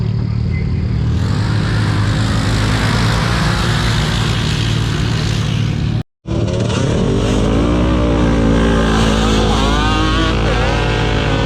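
A four-wheeler engine at a mud drag, revving hard and bogging in deep mud, a loud continuous drone that cuts out abruptly for a moment, then returns with climbing revs and wheel-spin whine.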